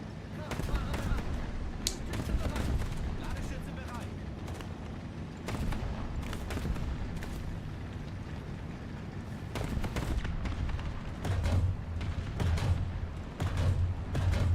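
Tank cannon and gunfire in War Thunder crack out as a busy series of sharp shots and booms over a rumbling engine, some near and loud, others softer, with a voice speaking in places.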